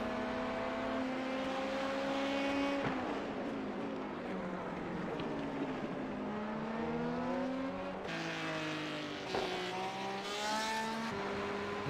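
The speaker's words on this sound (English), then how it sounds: "I hear an LMP2." An LMP2 prototype race car in iRacing during the 12 Hours of Sebring endurance race, a high engine drone rising and shifting through gears as it passes close by, steady and loud throughout.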